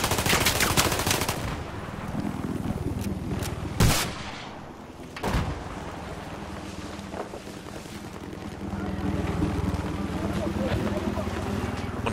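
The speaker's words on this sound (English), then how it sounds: "They have a Jeep in the rocks northeast of B, and it's firing at us as we come in this spot." Enemy gunfire from a Jeep in Battlefield 4 on the Hainan Resort map: a burst of rapid shots opens, followed by a few sharp isolated cracks amid steady wind and engine rumble.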